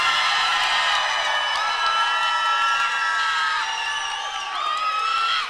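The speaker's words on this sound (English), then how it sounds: "A round of applause." An MMA event crowd cheers and whoops loudly after a fight, a dense mass of shouting voices with some applause sustained throughout, near and full.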